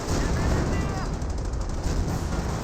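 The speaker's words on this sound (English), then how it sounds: "Takes out the Pack 38 with the artillery barrage." Artillery barrage in Company of Heroes wiping out a Pak 38 gun: dense, rumbling explosions and rapid gunfire crackle in a continuous loud battle din, with deep booms underneath.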